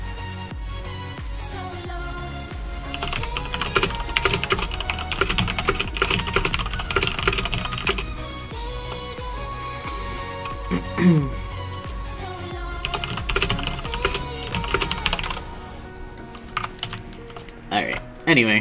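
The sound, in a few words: typing on a computer keyboard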